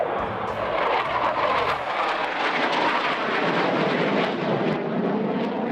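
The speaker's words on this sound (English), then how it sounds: "2 F-16s doing a flyover above the campus chapel" Two F-16 fighter jets fly over a campus chapel in Colorado Springs. They give off a loud, sustained broadband roar that stays strong for the whole stretch with no other sound.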